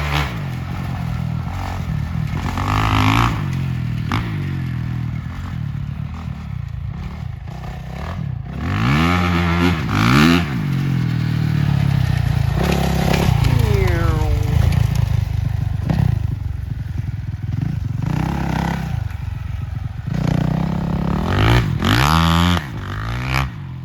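Honda 450R dirt bike being ridden: a continuous near, loud engine that revs up and down through the ride, with scraping and clatter from tires sliding on loose ground, no talk.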